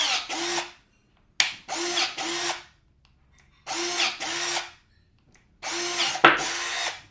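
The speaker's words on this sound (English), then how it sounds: "we did get through the 1 inch, but it took us about 4 or 5 tries" A battery-powered MZK electric pruning shear works through a one-inch branch in four separate motor bursts, each a loud, close whir lasting about a second, with quiet gaps between attempts.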